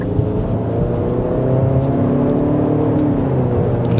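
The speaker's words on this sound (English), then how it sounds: "I am driving around 40 miles an hour, but with the larger 20-inch wheels" Inside a 2025 Nissan Murano SV crossover on 20-inch wheels, driving at about 40 mph in sport mode: a steady, loud low engine and road drone with a rising whir, continuous and without talk.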